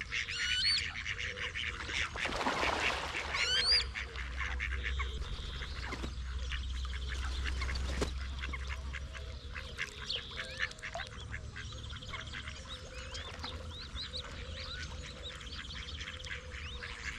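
Ducks quack repeatedly amid a busy outdoor chorus of birds, with a steady low rumble underneath and no talking.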